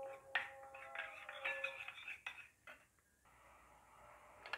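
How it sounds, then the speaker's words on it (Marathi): A spoon scraping and clinking against a bowl while gram flour (besan) is stirred into curd for a curd curry, light irregular metallic taps and scrapes, close and fairly quiet, no talking. "हे बेसन मिक्स करून घ्यायचं याच्यामध्ये व्यवस्थित."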